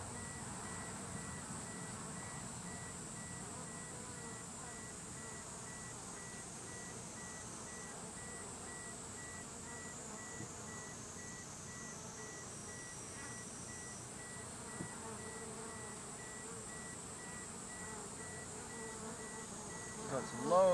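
A dense, steady hum of many Japanese honey bees buzzing on hive frames close by, faint but continuous, with a soft tone in the background and a small knock near the end.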